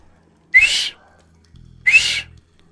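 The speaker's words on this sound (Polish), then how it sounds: "Uczę się gwizdać jeszcze jak coś." A person practising whistling gives two short whistled notes, each about a third of a second long and sliding upward, close and fairly loud, with a soft low hum in between.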